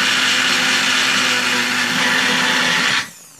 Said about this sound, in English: Look at that, got it in the bullet.